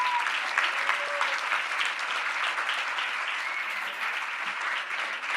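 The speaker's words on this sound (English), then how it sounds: "Round of applause for WeFox." A crowd at a tech demo event gives a steady round of applause for a company's presentation, an even wash of many clapping hands lasting about five seconds at moderate volume.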